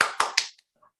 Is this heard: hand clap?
yes